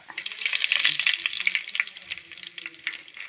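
Curry leaves dropped into hot oil for a Kerala fish curry, giving a steady, close crackling sizzle with brief stirring clatter, no voices.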